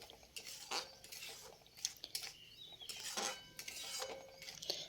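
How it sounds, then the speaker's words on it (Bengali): Tomato chutney sweetened with a little sugar is stirred in a pan, soft intermittent scrapes and light clinks of the spoon against metal, fairly quiet and close. "তো মিষ্টিটা দেওয়ার পরে আমি একটু নাড়াচাড়া করে নিচ্ছি"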